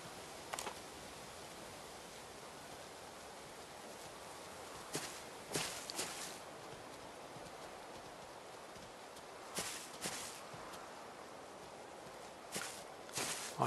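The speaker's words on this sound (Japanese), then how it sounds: "足音がでかいよ。" Footsteps of people walking on a safari walk in Africa, a few soft crunching steps in short clusters against a quiet outdoor background, fairly close.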